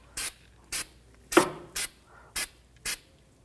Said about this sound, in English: you can put some anti-seize on here. I'm just going to put some on. This is a spray form.